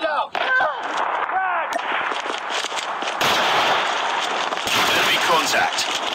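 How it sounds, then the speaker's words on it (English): Explosions and gunfire in a tactical shooter video game, with a loud blast and bursts of shots mixed with game effects and whistling tones, while voices call out over the action. "Frag out! Grenade out!"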